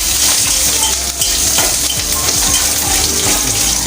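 Sambar ingredients fry and are stirred in a hot pan, a loud continuous sizzle close up with repeated scraping strokes of a spoon against the pan and no talking.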